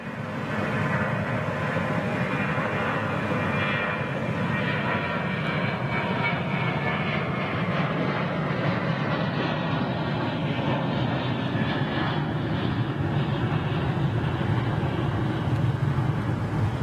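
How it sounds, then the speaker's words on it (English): A jet airliner at London Heathrow taxis to line up for departure, giving a steady, moderately distant engine roar that holds evenly throughout. "it looks like he's just been given clearance to line up for departure because he's moving now"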